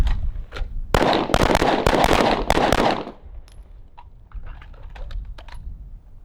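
Pistol shots on a range drill crack out in a fast burst of loud, sharp reports close by, followed by quieter scattered shots and clicks further off.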